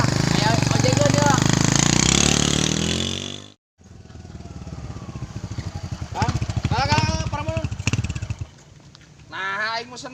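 A motorcycle taxi engine idles loudly and steadily, then cuts out briefly before running again at a lower, uneven level while people talk over it.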